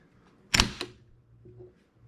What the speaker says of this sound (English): pull the bolt back, bolt release, hit it, watch your fingers.